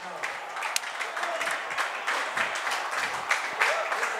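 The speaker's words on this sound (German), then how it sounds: "Und hier herrscht kollektiver Jubel" A football crowd at an Eintracht Stadtallendorf versus Eintracht Trier relegation match cheers and applauds a goal, a dense, continuous roar of clapping and shouting, with speech mixed into it.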